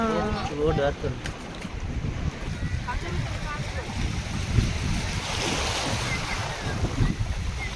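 Sea waves wash steadily onto the shore of St. Mary's Island at Malpe, a continuous broad rushing roar with wind buffeting the microphone and faint voices in the background.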